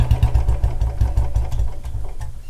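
A Royal Enfield BS6 Bullet with EFI idles close by, its single-cylinder engine thumping in a quick, loud, uneven rhythm with a clattering edge, alone and with no voices.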